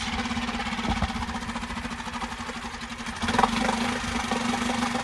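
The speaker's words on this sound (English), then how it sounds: "Bit of a noisy 4-stroke this one." A small 3.5hp Mercury four-stroke outboard motor with a new carburetor runs steadily at idle, a loud, slightly rattly mechanical drone that rises a little toward the end.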